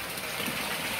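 Water splashes steadily into a koi pond from a circulation outlet, a continuous close, even rush with no talk over it.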